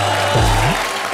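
Studio audience applause at a Hindi comedy show, a steady dense wash of clapping lasting about a second, loud and close, with a low tone and a brief sweeping sound mixed in.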